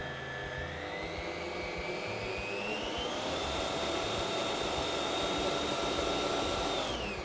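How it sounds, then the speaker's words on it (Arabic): An electric mixer blends flour, baking powder and cinnamon into a date cake batter, with a loud, steady motor whine that climbs in pitch partway through and holds close and continuous. "هنحط خليط الطحين اللي عندنا اللي هو طحين وبيكنج باودر وقرفه، وبرضو هنخلط"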